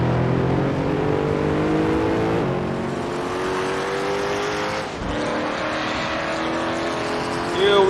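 A GT race car engine in Assetto Corsa at the Red Bull Ring roars loudly and steadily, shifting pitch through gear changes as it climbs and drops, with a short rise in revs at the end.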